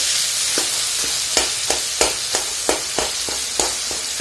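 Potatoes and tomato fry in oil with a steady sizzle, broken by regular stirring scrapes about every third of a second, close and fairly loud.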